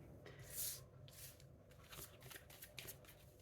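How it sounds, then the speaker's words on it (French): Tarot cards are laid out one after another on a table, giving soft papery slaps and slides close by, with a brighter card flick near the start. "je ne vais pas mélanger. Je vais vraiment mettre les cartes entre vous."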